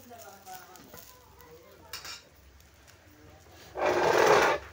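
Ginger and garlic roast in a pan with masala for spicy misal. A voice talks over light clinks before a loud burst of sizzling near the end.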